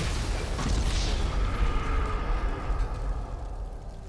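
A low rumbling explosion from a Halloween pumpkin trick in GTA Online, a dull boom followed by a sustained crackling roar that stays fairly steady without speech.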